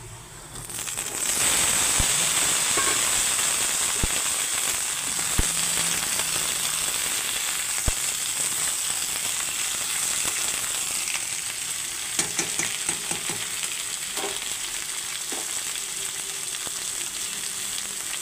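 Ridge gourd frying with browned onions in hot oil, a loud continuous sizzle close up, with occasional sharp pops and crackles and scraping stirs throughout, no talking.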